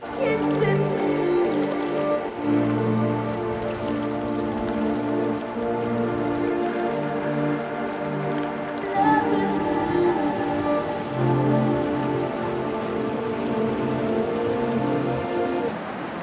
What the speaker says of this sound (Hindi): जो आगे जाकर वाटरफॉल के रूप में गिरती है।